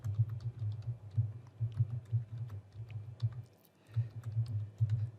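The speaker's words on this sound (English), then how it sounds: "just type in your initials or something" Steady close-up computer keyboard typing, entering a workspace name in AutoCAD, continuous rapid key clicks with a brief pause before resuming, no voices.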